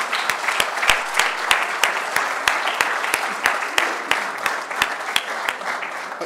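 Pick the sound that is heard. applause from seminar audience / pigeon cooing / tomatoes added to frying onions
applause from seminar audience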